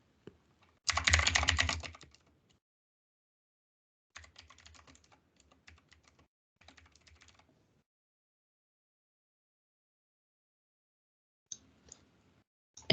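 Bursts of typing on a computer keyboard, one dense flurry of close keystrokes followed by two lighter runs of taps, then a long quiet gap and a few scattered clicks at the end.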